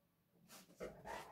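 A dog gives two or three quick, soft huffing woofs on command, close by and fairly quiet, mixed with light panting.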